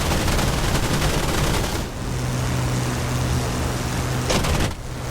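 Spitfire machine guns and cannon fire in a combat flight simulator as a dense, continuous rattling barrage over engine drone. The burst briefly drops off and resumes with sharp cannon thumps, loud and close with no talk.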